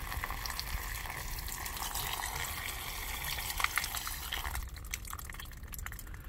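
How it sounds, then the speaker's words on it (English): Hot water drains out of a camper's water lines during winterizing, a steady close splashing and trickling flow that runs continuously and eases slightly toward the end, with no talk. "the red is always hot, so we're gonna let the hot water drain out too."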